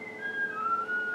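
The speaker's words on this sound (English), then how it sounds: "he whistles on the hour, and it's 5:02 because he's always early" A small novelty figure bought at a garage sale whistles a short tune on the hour, a clear, pure whistled melody heard up close and alone for about a second.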